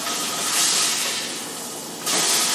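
Cod fillet sautéing in garlic oil in a pan, a steady loud sizzle and hiss that dips for a moment, then surges back up as the fish is flipped, with no voices.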